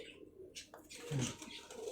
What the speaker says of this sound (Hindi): देखिए अपने कबूतर।